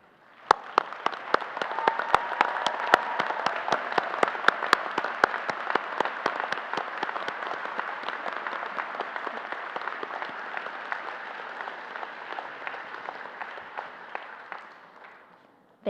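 Audience applause for military members and veterans at a University of Houston College of Pharmacy ceremony, sustained dense clapping with a few sharp individual claps standing out, steady for about fifteen seconds before fading at the end.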